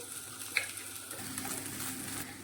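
A hot pan sizzles as crushed corn goes in for corn cheese paratha filling, with stirring and scraping, the frying hiss growing steadier partway through.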